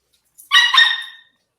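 A dog lets out a short, close, harsh bark that breaks into a rising yelp, loud and alone, with no other sounds around it.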